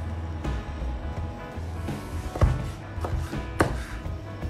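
A knife chops bell pepper into cubes on a cutting board in a kitchen, irregular sharp cuts at close range with no talk.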